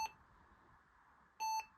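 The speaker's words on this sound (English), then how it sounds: "You'll hear the intercom beep." An intercom chimes after a four-digit keypad access code is set: two short electronic beeps, one at the very start and a second, louder steady tone about a second and a half later, with quiet room hiss between.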